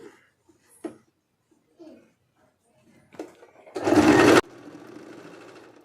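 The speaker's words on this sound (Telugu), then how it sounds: "వీటి రెండింటిని ఇలా పెట్టేసి పైనుంచి ఒక స్టిచ్ వేసేయాలి" A sewing machine stitches kurti fabric in one short, loud burst of about half a second, preceded by soft handling noises and faint voices nearby.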